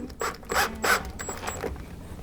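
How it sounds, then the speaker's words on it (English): A screw is driven into a plantation shutter hinge during a direct-mount shutter install, giving a few short mechanical whirring, grinding bursts close by with quieter rubbing between them. "So now we're just going to screw off the hinge"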